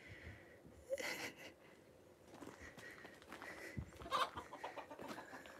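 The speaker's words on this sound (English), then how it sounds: "Well, there's the rooster." A rooster on a farm calls in two short loud bursts against quiet outdoor background, with faint fowl sounds between.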